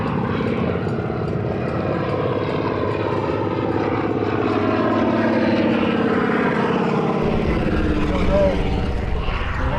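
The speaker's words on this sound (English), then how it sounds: "our plane showed up sooner than we thought, and he's circling, trying to look for a place to land" A float plane circling low overhead over the Arctic coast, its propeller engine droning steadily and fairly loud throughout, with wind and people talking underneath.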